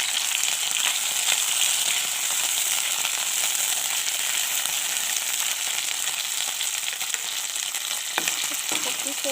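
Fish heads fry in hot mustard oil in a wok, giving a loud, continuous close sizzle and crackle that stays even throughout, with a few sharper pops near the end.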